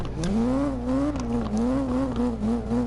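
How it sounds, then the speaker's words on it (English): A Nissan S15 in the CarX Drift Racing video game, its engine droning and wavering in pitch as it holds a drift, with burbling exhaust pops and faint tire noise, loud and continuous. "Listen to the burbles of that exhaust."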